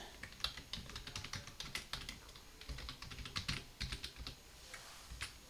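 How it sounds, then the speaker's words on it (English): Quick, irregular clicks of fingers typing on a computer keyboard, close and fairly quiet, in bursts of keystrokes with brief pauses and no talking. "So I just typed in abstract butterfly"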